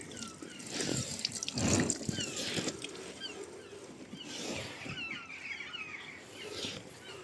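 Coolant drains from a Land Rover Discovery Sport, a continuous splashing trickle of liquid with occasional drips and light mechanical clicks, heard close up with no talk.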